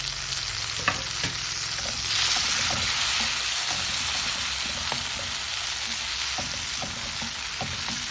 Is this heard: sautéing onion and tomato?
yes